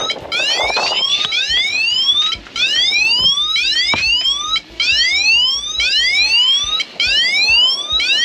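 The anchor alarm on a Bavaria 36 sailboat at anchor in Greece sounds loud and close: repeated bursts of rising electronic sweeps, each lasting about two seconds with short gaps between them.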